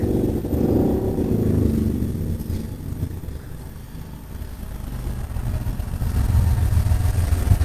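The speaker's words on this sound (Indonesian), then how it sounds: "ada sedikit noise seperti suara sepeda motor karena konturnya ini dekat dengan jalan raya" Motorcycles pass along a nearby main road, a steady mid-range engine rumble that swells and fades as they go by, heard as background noise with no talking.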